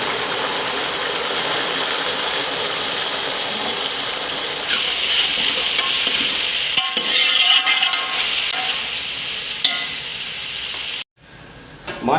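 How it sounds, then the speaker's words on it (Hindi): Sliced okra (bhindi) fries in hot oil in a home kitchen, giving a loud, continuous sizzle with occasional stirring scrapes and a brief break near the end. "पहले अस भिंडी फ्राई कर रहे हैं।"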